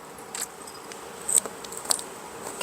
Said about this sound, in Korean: 귀뚜라미가 울고 밤비를 내리는 것으로 봐서 이건 가을,